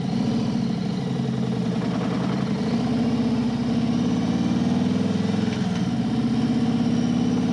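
A Harley-Davidson motorcycle V-twin runs steadily with a loud, close, throbbing engine note and uneven lumpy pulses, continuous for the whole stretch with no speech.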